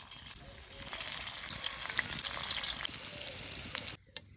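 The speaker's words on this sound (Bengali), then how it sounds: "এবারে উচ্ছেগুলো সব ভেজে নেব।" Bitter gourds stuffed with spice filling fry in hot oil in a village kitchen, a steady close crackling sizzle that holds for about four seconds before cutting out abruptly.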